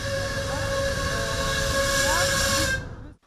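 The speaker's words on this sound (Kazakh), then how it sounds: "Бірер минуттан соң пойыз дыбысы естілді." A passenger train pulls in to a station platform where a crowd waits with flowers, its steady rumble and sustained whistle-like tonal hum running loud and continuous for about three seconds before cutting off abruptly.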